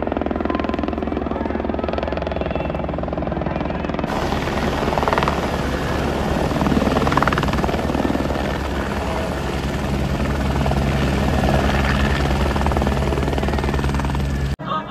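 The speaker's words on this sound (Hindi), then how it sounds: "सुबह का पहला हेलीकॉप्टर आ चुका है" A helicopter thunders nearby at Panjtarni on the Amarnath Yatra route in the Kashmir mountains, with a loud, steady rotor chop and engine drone, growing fuller partway through and staying dominant until the end.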